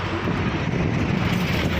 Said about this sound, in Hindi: बहुत तेज़ हवा चल रही है भाई